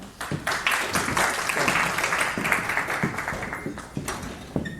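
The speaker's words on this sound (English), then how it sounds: "Please give a round of applause to him." Audience at a convention applauding a speaker, a steady wash of clapping from many hands with a few louder individual claps, sustained throughout at moderate level.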